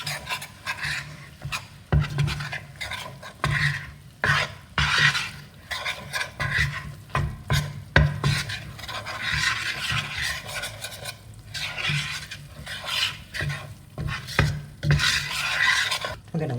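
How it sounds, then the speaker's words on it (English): Flour is stirred into warmed oil and butter in a pan for a classic Greek moussaka, with irregular scraping and rubbing strokes of a utensil against the pan and faint sizzling beneath, and no talk. "Once my oil and my butter have warmed up, I want to add some flour. I'm adding about 1/2 cup. Yes. Give that a good stir."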